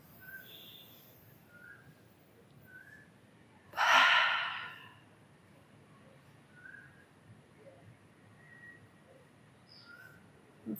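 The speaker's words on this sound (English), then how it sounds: "A forceful exhale out the mouth." A single forceful breath pushed out through the mouth during a slow yoga flow, a loud breathy rush lasting about a second amid a quiet room with faint soft background tones.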